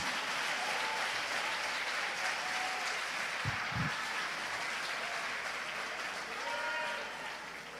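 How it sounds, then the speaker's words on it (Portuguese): Applause from a church congregation during an evening celebration service, steady and dense across the whole stretch, with a couple of louder claps standing out near the middle. "Aplaude os vencedores."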